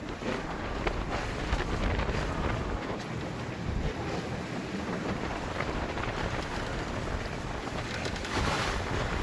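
Strong wind roars steadily across the microphone outdoors on open water from a small boat, a loud continuous buffeting rush with wave wash underneath and no talk.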